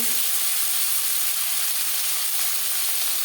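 Chopped tomatoes hit hot oil tempered with panch phoron and bay leaf for a Bengali rohu fish curry with potatoes, giving a steady, close, hissing sizzle that runs unbroken throughout with no talk.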